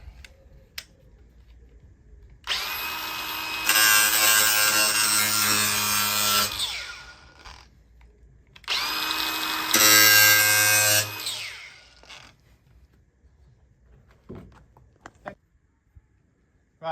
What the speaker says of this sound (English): I use an angle grinder just for speed